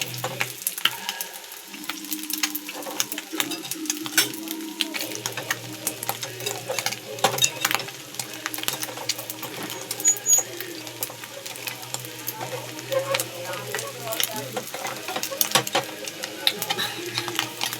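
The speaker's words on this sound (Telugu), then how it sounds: "చికెన్ పకోడీ అలా మ్యాగ్నేట్ చేసుకొని వేయించుకుంటే రెడీ అయినట్టే." Chicken pakoda fries in hot oil with a continuous sizzle, while scattered scraping and clinking come from stirring in the pan, all heard up close.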